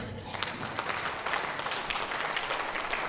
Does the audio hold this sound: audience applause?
yes